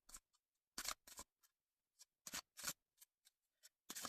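Oracle cards from a Love Messages deck are shuffled in quick, crisp riffles and taps, with irregular bursts separated by silence, faint but close.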